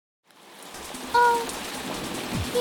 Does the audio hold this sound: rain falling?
yes